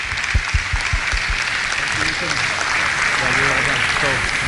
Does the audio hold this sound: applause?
yes